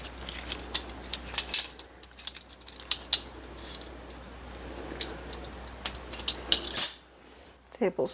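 A metal tablespoon scoops cornstarch for a blueberry pie filling, making a series of light metallic clinks and taps close by with quiet pauses between them.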